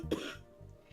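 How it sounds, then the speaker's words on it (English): A single cough or throat-clear, short and fairly close, heard alone at moderate level. "Don't mind the coughing."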